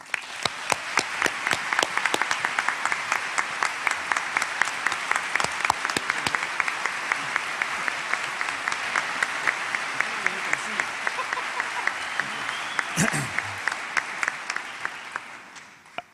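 Sustained audience applause at an opera singers' competition concert of arias, greeting a guest judge; dense, steady clapping from a large crowd with a few sharp individual claps, fading out near the end.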